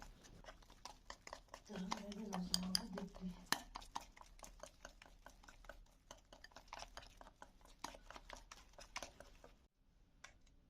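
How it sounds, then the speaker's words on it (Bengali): Gram-flour batter for eggplant fritters is whisked briskly in a bowl, making a fast, even train of light clicking taps that carries on for several seconds before stopping abruptly. "ব্যাটারটা তৈরি করার সময় অবশ্যই ভালোভাবে ফেটিয়ে নিতে হবে যাতে করে বেসনের ভেতরে একটা সুন্দর এয়ার ক্রিয়েট হয়"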